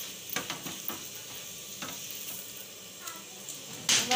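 A paratha fries in a pan at home with a soft, continuous sizzle, broken by faint scraping and stirring clicks and a louder crackle near the end, heard fairly quietly with no speech.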